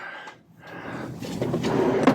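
A wooden nightstand drawer in a cruise ship cabin, jammed and hard to open, scrapes open and shut, a short rough sliding rub followed by a soft knock at the end.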